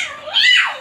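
A voice imitates a cat's meow, a single short rising and falling mew, close and fairly loud.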